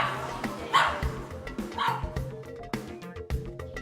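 A nervous dog barks and yips in quick, uneven bursts, with whimpering between barks, close and fairly loud, with faint human voices underneath.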